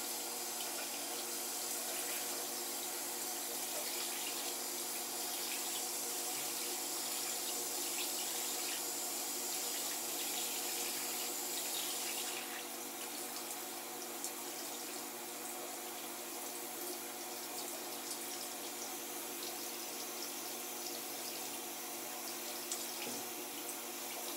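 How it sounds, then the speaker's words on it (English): Steady running tap water while face cleanser is rinsed off at a sink, a continuous close splashing stream that softens partway through, with no voices. "So now I'm just gonna go ahead and rinse that off."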